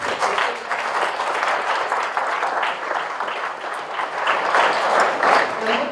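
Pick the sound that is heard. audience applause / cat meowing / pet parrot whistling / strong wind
audience applause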